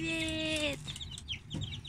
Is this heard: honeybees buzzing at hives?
no